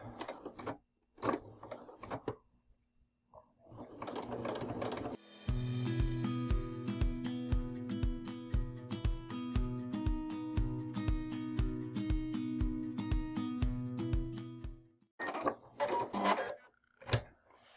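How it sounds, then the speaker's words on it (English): A sewing machine runs in a steady rapid stitching burst for about ten seconds, sewing foundation paper-pieced quilt fabric, with short rustles and clicks before and after. "let's go to the sewing machine"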